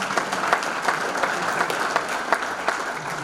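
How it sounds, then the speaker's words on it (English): Sustained applause from a banquet-hall crowd at a sports hall of fame ceremony, many hands clapping in a dense, even roar with occasional louder individual claps popping through. "Please give them a big round of applause."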